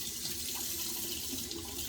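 Steady, soft rush of water running from a sink tap during a wet shave, a continuous faint splash with no talking.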